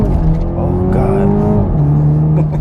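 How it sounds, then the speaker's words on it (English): A 2021 Toyota Supra 2.0T engine drones and revs steadily at close range, its exhaust crackling and popping through the rumble, with no talking. "You hear the crackles and pop from the exhaust there."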